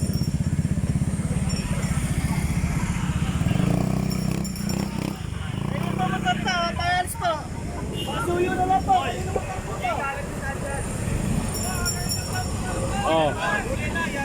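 Motorcycle engine on a busy street near a roadside eatery, a steady rumbling idle with revving swells running throughout while several people talk over it.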